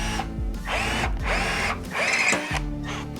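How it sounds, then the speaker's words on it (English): A hand drill bores into rivets on an Ariens snowblower, whirring in repeated bursts that start and stop, with the motor pitch rising and falling as the bit bites and spins. "Now you are supposed to remove these rivets with a 9/32 drill bit"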